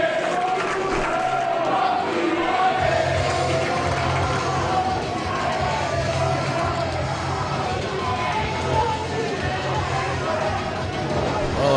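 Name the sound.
wrestling crowd cheering after the match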